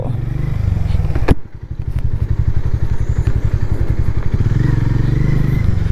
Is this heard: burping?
no